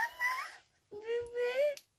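A cat meows twice in close succession: a short rising cry, then a longer drawn-out meow, near and clear in a quiet room.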